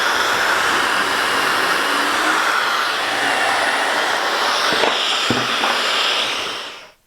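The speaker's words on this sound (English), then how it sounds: "I'm using the Kreg jig in order to do my pocket holes" A drill bores pocket holes through a Kreg jig clamped to a board, giving a loud, continuous high-pitched whine that holds steady for several seconds with a couple of brief knocks near the end before cutting off.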